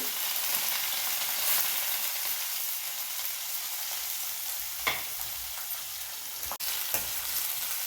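Ginger, onions and green chillies frying in hot oil for an aloo curry, a steady, close hiss of sizzling throughout, broken by a few brief scrapes and clinks of a stirring spoon, with no talk.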